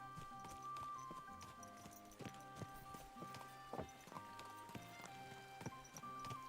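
Horse hooves clip-clop at a steady walking rhythm in Kingdom Come: Deliverance 2, close and clear over a background game music score with no talking.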